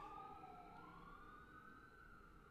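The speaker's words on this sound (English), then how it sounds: "And there's some sirens going on outside." Emergency sirens wail outdoors, heard from inside as a steady, moderately distant rising and falling tone over low background rumble.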